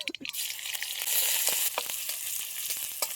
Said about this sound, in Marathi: हे ठेसून घेतलेलं लसूण टाकून घेऊ